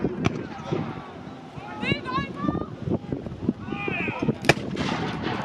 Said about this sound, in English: Oh, artillery! Artillery!